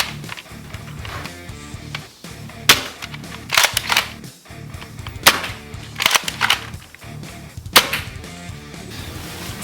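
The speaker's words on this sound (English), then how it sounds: "we're gonna shoot 2 to 3 times with each dart" An Adventure Force Nexus Pro toy blaster fires short darts in sharp, loud snapping cracks, about seven shots in small clusters separated by pauses, heard close and with no talk.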